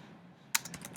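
Fingers tap out a quick burst of keystrokes on a computer keyboard, typing a quiz question in Kahoot. The clicks are close and crisp and start after a short quiet stretch.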